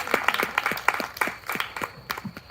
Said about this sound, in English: Let's give a big round of applause for the person that's revitalizing the Women's Democratic Club, Miss Lynnae Johnson.